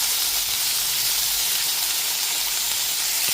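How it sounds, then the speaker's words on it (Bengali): Chopped tomatoes sizzle steadily in a pan of oil while cooking down for a vegetarian bhindi masala, an okra and potato curry, with an even, continuous frying hiss and no talking. "এবার টমেটো কুচিটা দিয়ে দেওয়ার পর যতক্ষণ না পর্যন্ত টমেটোটা নরম হয়ে আসছে ততক্ষণ পর্যন্ত খুব ভালো মতো একটু ভেজে নেব।"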